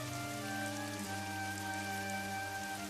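Steady rain falling in an animated Hindi story, a continuous hiss of drops mixed with soft sustained background music tones.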